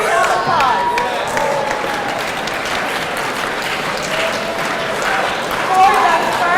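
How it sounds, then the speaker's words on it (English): Audience applause fills an evening speech contest hall, steady and sustained throughout with a few voices and cheers mixed into the clapping. "Give yourself applause."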